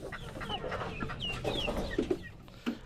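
Several chickens cluck and murmur close by, with short sharp squawks breaking through, and a faint background hum.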